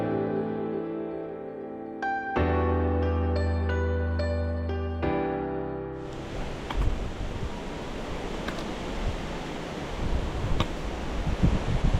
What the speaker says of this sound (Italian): qui siamo un po' più scoperti al vento